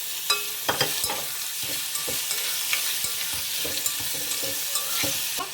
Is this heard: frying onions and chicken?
yes